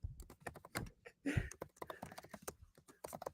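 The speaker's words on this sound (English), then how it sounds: "What are you typing?" Fingers type rapidly on a computer keyboard, a close, uneven clatter of light key taps with a couple of heavier strokes, running alone without talk.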